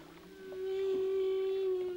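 Whales sing underwater near a mother and calf, a long, clear, rising tonal moan swelling in loudness and holding steady against a faint watery background.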